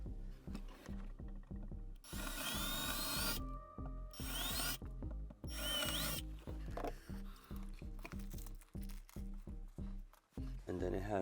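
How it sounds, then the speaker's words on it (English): A power drill pre-drills mounting holes while installing an Enagic LeveLuk SD-501 U Pro water ionizer, giving two loud bursts of whirring amid rhythmic tool clatter and rubbing, with people talking nearby. "You got that? The pre-drill."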